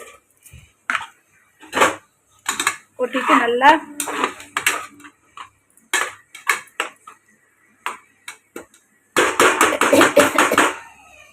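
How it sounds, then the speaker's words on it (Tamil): Soaked peas poured into a pan while cooking puthina rice: scattered clinks and knocks of cookware, then a dense rattling burst near the end, with someone speaking in between. "இப்போ இந்த பட்டாணியை கொட்டிட்டு"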